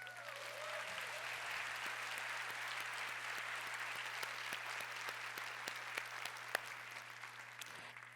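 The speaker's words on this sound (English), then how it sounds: "Everyone, please join me in giving them a round of applause." After a panel discussion on hacking and security, an audience applauds with sustained, even clapping heard from a distance at low level, and a steady electrical hum runs underneath.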